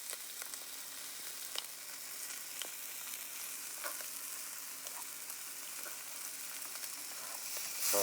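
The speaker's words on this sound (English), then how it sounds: "I've decided I'm just going to leave it whole and sear it" A whole sous vide pork tenderloin sears in a hot pan, giving a steady, fairly quiet sizzle and crackle with occasional small pops, continuous throughout and slightly louder toward the end.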